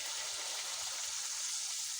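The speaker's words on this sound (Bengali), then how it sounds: "আমি এখন পানি দিয়ে দিচ্ছি।" Water pours into a pan of cooking poultry chicken, a steady soft gushing hiss throughout, faint and without voices.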